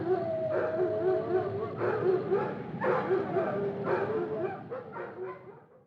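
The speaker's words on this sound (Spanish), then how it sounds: "Están ladrando los perros." Several dogs bark and yip in bursts outdoors near a gate at night, overlapping yaps and whimpering howls at moderate distance, continuous throughout without any voices.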